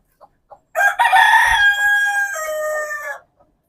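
A chicken calls out loudly and close, one drawn-out clucking cry of about two and a half seconds after a couple of soft short clucks, in a quiet setting.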